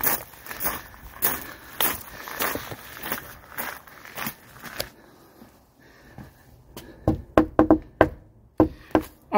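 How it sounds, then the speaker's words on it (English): Footsteps thud along a hard surface, then after a quiet pause come several sharp knocks on a door in quick, uneven bursts, close by. "let's go knock on Gunner's door"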